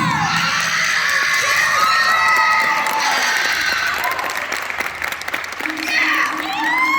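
Cheering and applause from a band banquet crowd after student flag and rifle solos, with shouts and whoops over steady clapping, loud and sustained throughout.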